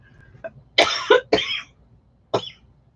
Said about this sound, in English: what'd you make me cough for?